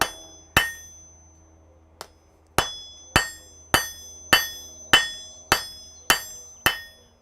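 Hammer blows on hot steel at an anvil in a blacksmith's smithy, forged below welding heat: about ten sharp ringing strikes, mostly in a steady rhythm after an early pair, each with a bright metallic ring and short decay, close and loud.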